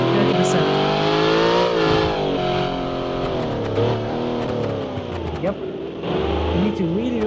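A 4,500-horsepower car accelerating hard in the BeamNG driving game, a loud droning engine note with rising and shifting revs throughout, while someone talks over it.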